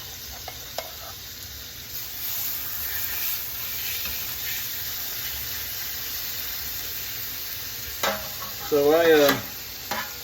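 Steaks searing in a hot iron skillet with butter, giving a steady broadband sizzle and spatter throughout, with a few scrapes of stirring or moving the meat near the end and a brief word spoken.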